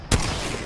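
A single sharp gunshot burst in Apex Legends gameplay, loud and close, with a short ringing tail fading out over the next half second.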